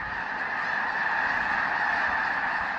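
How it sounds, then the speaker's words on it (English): Snow geese and other waterfowl honk in a dense, continuous flock chorus at a California snow goose festival, loud and steady throughout with no voices. "They're actually one of the noisiest in terms of the geese and the waterfowl that come to visit"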